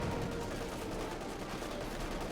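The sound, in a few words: gunfire from conscripts in a video game battle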